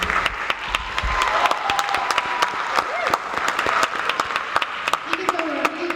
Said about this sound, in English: Round of applause for Gabe, please.